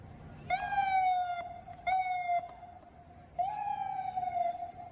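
Short electronic police siren boops: two quick bursts, a pause, then a longer one, loud and close with a faint rumble underneath.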